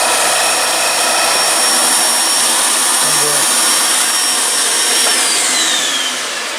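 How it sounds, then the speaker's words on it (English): A workshop dust collection system runs loud and steady throughout, a broad continuous whoosh with a faint whine, easing slightly at the very end. "We're actually quite pleased with the way this dust collection works"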